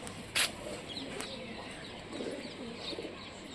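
A Rajshahi Giribaz pigeon coos softly against a noisy background, with one brief sharper burst near the start and low murmuring calls after.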